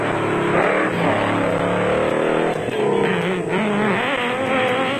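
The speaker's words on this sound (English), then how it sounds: "Sit back and enjoy the onboard action from the Nissan and the Ford." A Nissan Hardbody and a Ford Ranger off-road race truck run in a 2002 South African off-road race, with loud onboard engine roar climbing and falling in pitch as they rev through gears.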